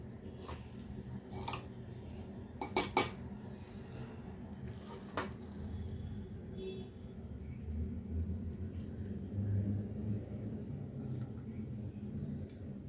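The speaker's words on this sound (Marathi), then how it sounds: "अलगद हाताने ढवळायचं आहे, नाहीतर आपले तांदळाचे दाणे जे आहेत ते मोडू शकतात" A spoon gently stirs soya chunks pulav rice in a pot. The sound is quiet and soft, with a few light scraping clicks early on over a low background murmur and no voices.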